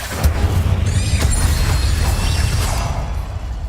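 A loud, dense blast from the Bombarda spell in the video game Hogwarts Legacy, with a sharp initial boom followed by a sustained rumbling roar and whooshing debris that fills the whole clip.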